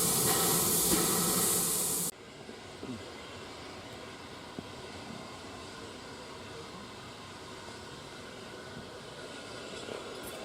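A steam locomotive at a heritage railway steam gala lets off a loud burst of hissing steam for about two seconds, then it cuts off to a quieter background of station rumble and faint ambient noise.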